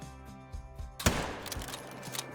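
A .45 Rolleston rifle fires a single sharp, loud shot at a mountain reindeer in the Call of the Wild hunting game. Quiet outdoor ambience precedes it, and a booming tail decays afterward.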